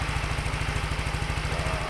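A Yamaha Xride or Mio scooter engine idles while hot, with a fast, even, steady putter heard close up and alone, with no voices.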